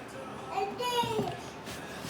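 Young child's babbling vocalizations drift in from the background of a kitchen during pizza making, faint and brief, a few short voiced bursts with no other talk.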